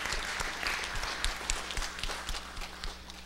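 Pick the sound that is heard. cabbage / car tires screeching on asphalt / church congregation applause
church congregation applause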